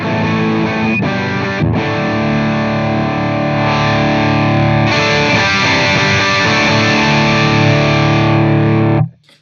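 Loud, heavily clipped electric guitar through a Suhr PT100 amp plugin with thick distortion, sustained chords ringing continuously, then cutting off abruptly at the end.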